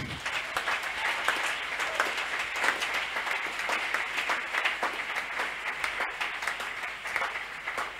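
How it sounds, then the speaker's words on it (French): A church congregation applauds during a Sunday worship service, a dense, steady wash of many hands clapping that carries on at an even level throughout, with no talk over it. "On acclame pour lui."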